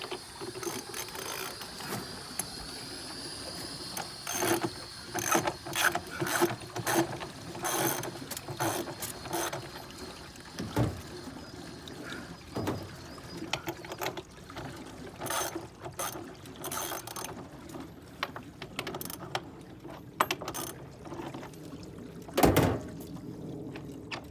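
Ratchet or 3/4 wrench loosening the top of a pool filter, with bursts of rapid metallic clicking separated by pauses and occasional louder knocks, close and fairly quiet.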